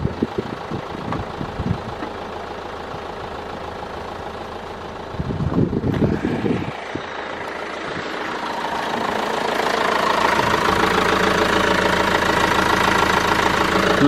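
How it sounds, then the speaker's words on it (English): A Vauxhall Movano long-wheelbase van with 45,000 miles idles with its bonnet open, a steady low diesel rumble with a few brief knocks partway through before the engine note swells louder and fuller toward the end. "show this to any mechanic and they'll let you know that this engine is running very smooth"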